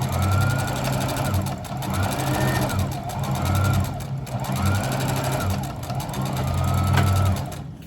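A sewing machine stitches a scrap quilt block, its motor running loud and steady in repeated bursts that swell and ease across the whole stretch, with a faint voice murmuring now and then.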